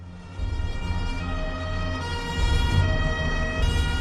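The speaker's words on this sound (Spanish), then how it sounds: "se oyeron las sirenas de los coches de policía resonando por las calles de Palermo" Police car sirens wailing through the streets of Palermo, a loud continuous electronic tone sustained for several seconds and swelling slightly toward the end, alone without voices.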